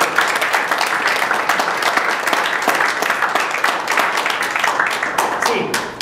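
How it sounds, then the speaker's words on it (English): A room full of people applauds Sheila at a Toastmasters-style talk, dense continuous clapping at fairly loud level that runs unbroken for several seconds. "Let's give a round of applause for Sheila."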